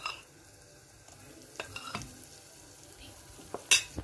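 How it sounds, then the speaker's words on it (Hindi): Flour being roasted in hot oil in a pan, with a faint low sizzle broken by scattered scrapes and a few sharp metallic clinks of a utensil against the pan, one louder clink near the end. "डाल के मैं इसको भून लूंगी।"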